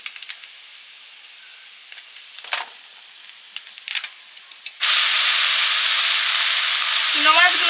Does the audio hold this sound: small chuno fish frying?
yes